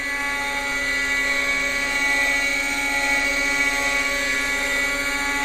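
A Quickie .18 nitro RC helicopter engine runs at half throttle while climbing, a loud, steady high-pitched buzzing whine with a constant drone, close by and uninterrupted.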